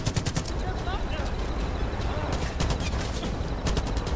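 Rapid gunfire in the video game Far Cry 5, dense bursts of automatic shots cracking continuously and loudly throughout, with a player talking over the shooting.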